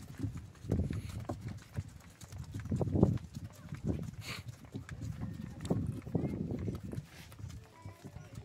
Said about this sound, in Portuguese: aqui transportando areia no carro de boi.